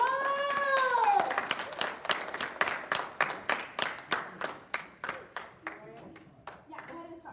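Applause for Crispus from a small group, a brief burst of clapping that starts out mixed with a voice, then thins into about a dozen separate, spaced claps, fairly close.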